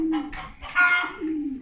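Pigeons coo softly in a few low, throaty bursts, with a brief flutter of other faint bird sounds nearby.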